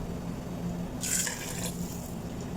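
Chicken broth is poured into a pot of rice and vegetables in a home kitchen: a brief splashing gush of about half a second stands out over a faint, steady background hum.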